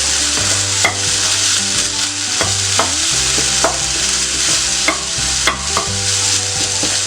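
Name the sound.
kothu chapathi being mixed and stir-fried in a pan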